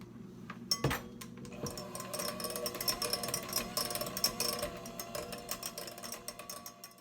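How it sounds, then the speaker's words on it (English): A handheld electric mixer whirs steadily through paleo double chocolate pumpkin muffin batter in a home kitchen, a continuous motor drone with light rattling and clinking of the beaters against the bowl, close and alone. "I should probably also mention that I'm using my handheld mixer."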